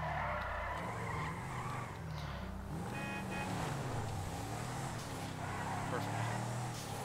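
An SRT Jeep Trackhawk drifting in GTA 5, the engine droning steadily with tires squealing and skidding continuously, held at a constant loud level.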